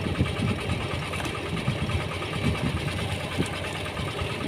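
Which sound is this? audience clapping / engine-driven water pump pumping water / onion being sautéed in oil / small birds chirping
engine-driven water pump pumping water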